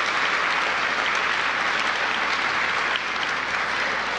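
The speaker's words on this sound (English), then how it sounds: "So give them a big round of applause." A crowd of guests applauds soccer-playing students from DC Public Schools at an announcement event, a steady, dense clapping that fills the whole stretch without pause.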